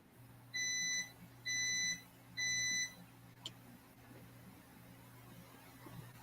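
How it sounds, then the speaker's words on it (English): A smart oven signalling it has reached preheat temperature gives three clear, evenly spaced electronic beeps, each about half a second long, loud over a low steady room hum, followed by a single faint click. "means my smart oven is up to temp and it's gonna start"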